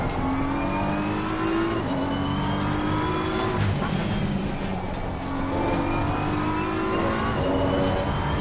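Racing car engine revving and shifting through gears in a racing video game, loud and continuous with rising and falling pitch sweeps and occasional tire squeal, heard alone without talk.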